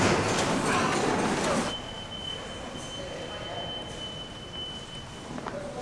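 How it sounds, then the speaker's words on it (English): A New York City subway train rumbles loudly for a couple of seconds, then settles into a steady, quieter rolling hum with a faint high whine, a close, enclosed rail sound. "Wow, I've never seen a subway."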